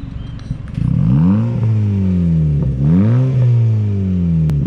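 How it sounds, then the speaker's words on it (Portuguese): A Honda Fit with a sports exhaust revs loudly up and back down twice, a deep roaring rise and fall heard close up from outside the car. "O escapamento aqui dá uma acelerada lá pra galera ouvir o ronco de fora"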